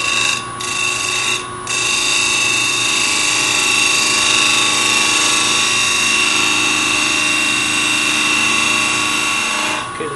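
Segmented hollow vessel spinning on a wood lathe while its bottom is turned down to final shape, a loud steady tonal whine with a constant hum, briefly dipping twice near the start.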